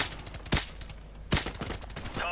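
Sniper rifle shots ring out in Modern Warfare Remastered, two loud sharp cracks about a second apart over steady background ambience and music.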